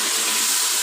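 Water poured into a pan of frying chicken curry masala: a steady, close, hissing rush of liquid that holds at an even level for under a second, with no speech.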